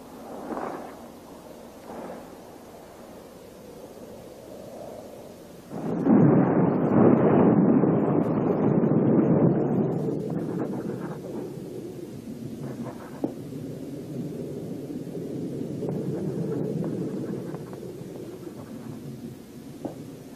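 A thunderstorm breaks with a long, heavy roll of thunder that swells loudly, then settles into a steady wash of rain and wind with faint rumbles trailing off.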